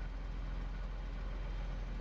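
Tractor engine in a farming simulator game, a steady low idling rumble, constant and unbroken, with no talk over it.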